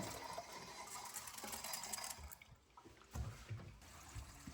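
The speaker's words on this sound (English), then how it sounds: "Once clear water starts to come out of the cold line, turn off the faucet" Water runs from a faucet's cold supply line in a steady trickle and splash, faint and close, dipping briefly before gurgling on.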